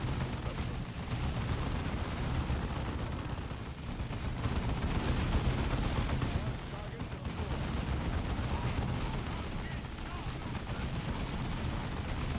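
Machine gun squad firing in the real-time strategy game Dawn of War 2, a dense, continuous rattle of automatic gunfire with booming artillery-like blasts layered throughout, loud and unbroken.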